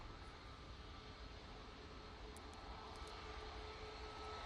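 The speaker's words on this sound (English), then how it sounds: "So this Ryanair 737 MAX 8 is off to Berlin." Ryanair Boeing 737 MAX 8 airliner at Manchester Airport, heard as a steady, fairly distant jet engine roar that holds even and continuous throughout, with no talking.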